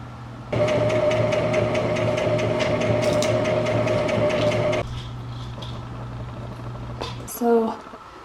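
A sewing machine stitching fabric for a dress runs in a steady, close mechanical whir for about four seconds, then drops to a quieter hum before stopping with a brief clatter; no one speaks.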